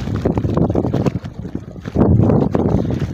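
Strong wind gusting across a beach on the Palawan coast, roaring into the microphone as broadband buffeting that swells and surges louder in the second half, with no voices.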